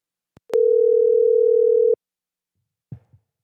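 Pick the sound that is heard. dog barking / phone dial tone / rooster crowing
phone dial tone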